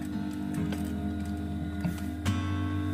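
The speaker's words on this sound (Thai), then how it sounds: "แล้วก็เย็บตามเส้นมาเรื่อยๆนะคะ เย็บถึงมุมพอดีนะคะ" A sewing machine stitches steadily along a marked line on a bag, its motor humming with fine mechanical ticking close up, continuous for the whole stretch with one brief louder clack near the end.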